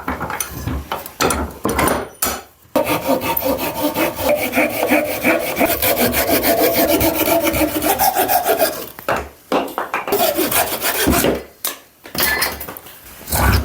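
A hand saw cuts pallet wood to length in repeated back-and-forth rasping strokes, close and loud, with brief pauses between runs of strokes and no talking.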